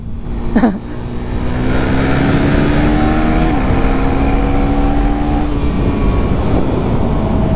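A KTM 390 Duke motorcycle engine drones steadily up close, its intake note holding a strong, even hum with a slight pitch shift partway through after a brief whine at the start.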